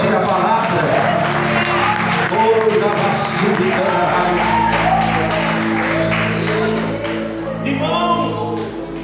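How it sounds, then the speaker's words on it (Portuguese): A church congregation applauds during a service, steady clapping that runs throughout with crowd voices and possible music mixed in underneath. "Você pode aplaudir a palavra."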